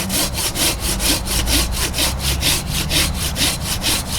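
Silky hand saw cutting through wood in steady rhythmic back-and-forth strokes, about four per second, close and clear with no talking.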